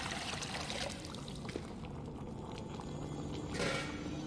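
Granular sulfur poured into a container in Amnesia: Rebirth, a soft, faint, steady trickling hiss lasting a few seconds, ending in a slightly louder rush of pouring.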